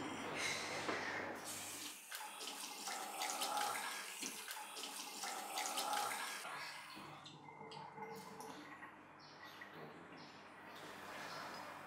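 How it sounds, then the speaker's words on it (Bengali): Tap water runs steadily and fairly close as someone washes their hands, a continuous broadband splash with small shifts in flow and no talk over it. "হাতটা ধুয়ে নিলে ভালো হতো না?"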